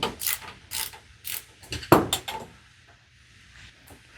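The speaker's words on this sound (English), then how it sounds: "Just gonna want to get on that bolt, remove it." A ratchet wrench loosens a bolt on the slide motor assembly of an NXG through-frame slide, making several close clicking ratchet bursts with sharp metallic knocks, then quieter ticks toward the end.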